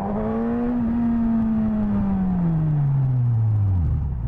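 Suzuki GSX-S motorcycle accelerating in first gear, engine note rising and then dropping as revs fall, a continuous close whirring roar with no talk.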